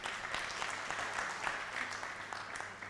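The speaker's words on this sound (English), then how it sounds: "give her an applause, please" At a public lecture, the audience gives moderate, steady clapping in acknowledgement of an absent woman, with a faint low hum underneath.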